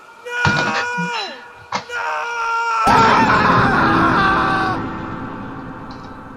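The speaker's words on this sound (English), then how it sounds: "Did I hear a scream?" A scream rings out in the Sirenhead horror video game. It opens with wavering, downward-sliding cries and a sharp hit, then swells into a loud, sustained shriek that fades at the end.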